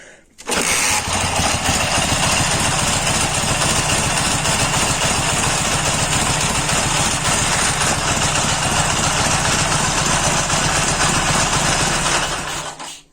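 A Dnepr MT K750 motorcycle engine, hand-started without a battery, runs loud and steady for the whole stretch with a close, continuous chugging rumble, then cuts off at the end.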